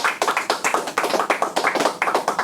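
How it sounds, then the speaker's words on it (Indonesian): An audience claps hands in a fairly quick, irregular rhythm, many sharp claps close together, moderately loud and without talk over it. "Tepuk tangan"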